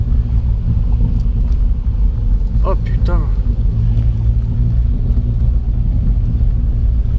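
Peugeot 106 driving along narrow mountain roads near waterfalls in Japan, a steady low engine and road rumble running throughout, with someone talking briefly over it.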